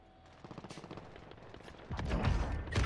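In the shooter game Warzone, rapid automatic gunfire cracks in quick bursts of shots that grow louder and denser toward the end. No one speaks.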